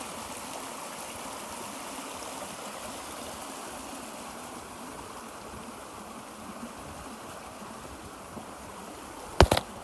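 A creek flows steadily beside a hiking trail, a continuous close rushing and trickling of water over rocks that fills the whole stretch, with a sharp handling knock right at the end.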